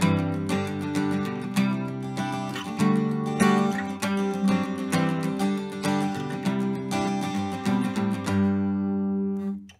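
Chords of Frank's Reel on a Martin 000 acoustic guitar in DADGAD tuning, with a moving bass line following the melody; steady strummed and picked chords ring continuously for about ten seconds, close and clear, with no voices.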